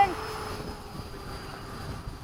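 Electric RC model jets, E-flite Havoc and FMS 80mm Hawk, coming in to land at a flying field at sunset, a steady distant whine with a faint rumble underneath.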